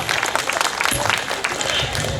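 An audience at a Tamil cultural night in Pudukkottai claps after a song, producing a dense, fairly loud burst of applause that stays steady throughout.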